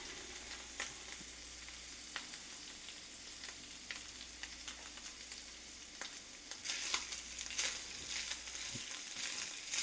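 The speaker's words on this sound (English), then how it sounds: "right now I'm getting this ground meat cooked up." Ground meat fries in a pan with a steady, moderately loud sizzle and scattered crackles and pops, which grow a little busier toward the end with no talking.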